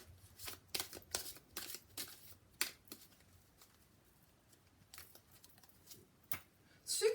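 Tarot cards being shuffled by hand, a series of quick papery riffles and soft slaps, close but fairly quiet, with short pauses between bursts and no voice over them.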